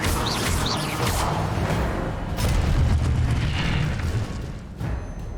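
A fiery Incendio spell blast in Hogwarts Legacy roars out as a loud, sustained rumbling burst of flame with low booming texture, held steady for several seconds without any voices.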